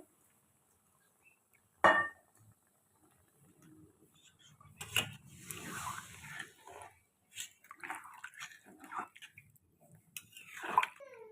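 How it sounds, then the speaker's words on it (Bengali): Water poured into a pan of simmering rita fish curry after the fish has been fried down in oil, with a sharp splash and sizzle followed by bubbling and soft clinks, a voice talking intermittently over it. "জল দিয়ে দিচ্ছে"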